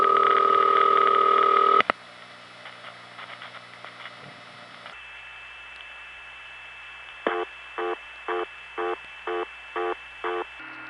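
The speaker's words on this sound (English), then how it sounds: "Here are a few real-life examples of N3 family carrier noise that don't have all the high frequencies." Band-limited carrier noise on an N3 family telephone trunk, 1976, lacking high frequencies: a steady hum with a thin whining tone, then a brief click, quieter hiss, and a run of seven short evenly spaced beeps near the end.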